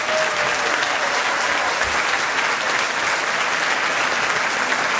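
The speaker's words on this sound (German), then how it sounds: "Einen riesengroßen Applaus für unsere 20 Finalistinnen bei der Wahl zu Miss Deutschland 2010" Loud, dense applause from the audience at the Miss Germany 2010 pageant in Köln Bergheim, greeting the twenty finalists, sustained and even throughout with no voices standing out.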